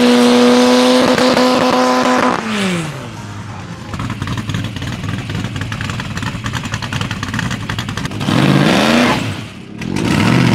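A loud, rough idling rotary-engine drag car, revving up sharply at the start and again near the end, with a lumpy rattling idle between, at an airfield drag race.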